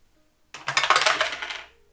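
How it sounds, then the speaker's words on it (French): Two dice rolled onto a table, a quick burst of rattling clicks and clatter lasting about a second before settling, close and fairly crisp, with no talking. "Lancez 2 dés."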